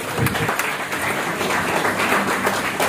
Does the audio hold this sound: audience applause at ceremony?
yes